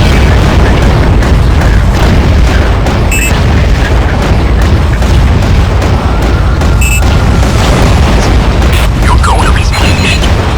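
Explosions from a wreckage bombardment in the underwater video game AquaNox, a loud, dense, continuous barrage of deep booms and rumbling blasts with occasional higher electronic beeps.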